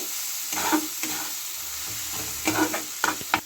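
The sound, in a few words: spice masala being stirred and sautéed in oil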